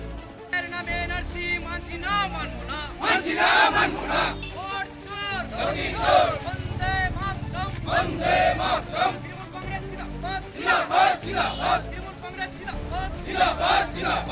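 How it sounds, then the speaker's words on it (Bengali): Trinamool Congress supporters at a rally outside a BDO office chant slogans against NRC and SIR, a loud crowd of voices rising and falling in rhythmic waves and sustained close by throughout. "এনআরসি মানছি না মানব না স্লোগান তোলে"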